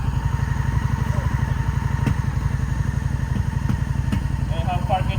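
A 2003 Honda Shadow motorcycle engine running after sitting unused, a steady close-up lumpy idle with rapid regular pulses, a voice speaking briefly over it.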